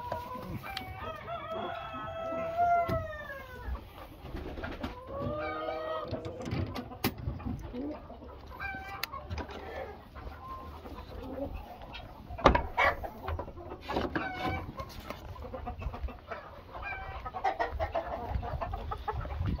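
Several roosters crow one after another over a steady background of hens clucking, including Marans, on a farm during egg collecting, with occasional knocks and a voice speaking nearby.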